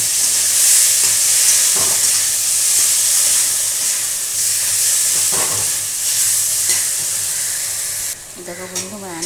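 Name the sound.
frying chillies and spice paste with pointed gourd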